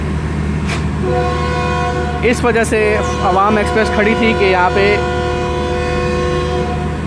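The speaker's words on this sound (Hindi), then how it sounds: "तो डिपार्चर हॉर्न हो गया है 14 डाउन का, यानी कि हमारी ट्रेन का।" The departure horn of the Awam Express, 14 Down, sounds as a sustained tonal blast at a Pakistani railway station on the Rawalpindi–Lahore route. It holds steady under someone talking close by.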